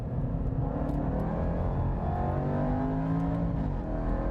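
A Jaguar XE SV Project 8 race car accelerating hard on hot laps at the Portimao circuit, its engine note heard from inside as a loud, continuous roar that climbs and shifts steadily in pitch.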